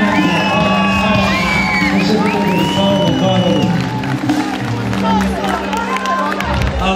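At a celebration marking an anniversary event, a crowd cheers, whoops and claps loudly and continuously while someone talks over the noise.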